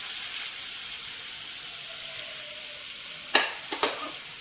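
Thinly sliced onions frying for mutton gongura give a steady close sizzle throughout, with a few sharp stirring scrapes and clinks near the end.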